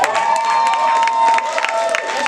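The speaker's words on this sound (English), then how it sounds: "Applause needed." Audience at a live talk show cheers and claps, a lively burst of shouts and whoops over scattered applause, close and fairly loud throughout.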